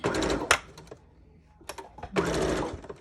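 A sewing machine that is acting up stitches elastic into a mask in two quick bursts of rapid clicking whirr, separated by a quiet pause, heard close up with no voices.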